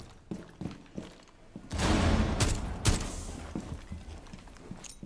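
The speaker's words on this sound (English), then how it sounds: "Look at you with that tap fire, Ian." Tap fire in Rainbow Six Siege, a burst of loud gunshots in the middle with sharp single cracks and softer distant pops around it, and no talk.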